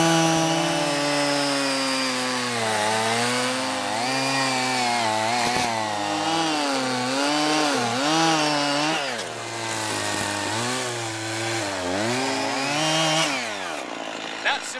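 A chainsaw rips lengthwise along a log being cut for a log bench, its loud, close engine droning steadily for about fourteen seconds, the pitch sagging and recovering repeatedly as the chain bites into the wood, with no voices over it.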